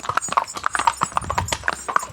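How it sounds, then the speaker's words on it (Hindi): Horse hooves clip-clop in a steady, quick rhythm during a horseback ride on a trail at Matheran, close and clear with some rustling between steps. "तो ये घोड़े के ऊपर की जर्नी है,"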